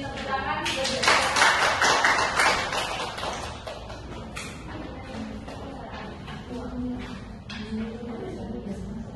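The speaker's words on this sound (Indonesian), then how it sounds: "Beri tepuk tangan." A classroom audience claps for the group 3 representative coming forward, a burst of scattered applause from many hands that swells then fades after a few seconds, followed by quieter room noise and faint talk.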